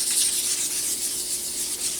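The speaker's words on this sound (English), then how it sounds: "Gonna wet the sandpaper down, wet it down again." A headlight lens being wet sanded with sandpaper, a soft, steady, close rubbing hiss in light skimming strokes that runs the whole short stretch with no voices.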